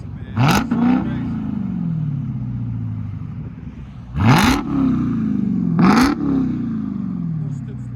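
Three quick, loud revs from a straight-piped 2021 Dodge Charger SRT Hellcat, each a sharp throttle blip dropping back to a deep, rumbling idle, heard up close.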